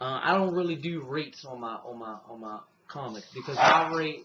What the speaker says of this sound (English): That's my dog barking in another bark.